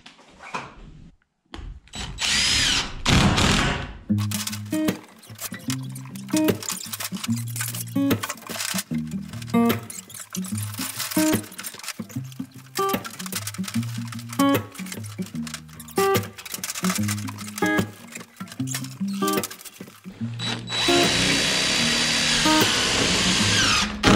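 Power drill driving screws through lightweight plastic roofing sheets, repeated whirring bursts with short pauses between screws, close and loud, plus faint clinks and handling noise in the gaps.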